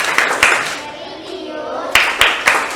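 A group performs the rhythmic Tepuk PPK hand-clapping routine, sharp claps in short patterned bursts separated by a pause, with children's voices faintly in the background.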